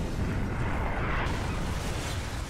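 A bomb blast in a Skibidi Toilet animation roars as one loud, sustained rumble that holds steady for a couple of seconds, with no voice over it.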